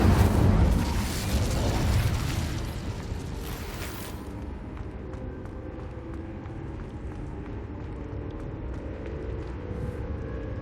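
Incendio fire spell cast in the video game Hogwarts Legacy, a loud booming burst with a roaring whoosh that fades over a few seconds into a low rumbling mechanical hum.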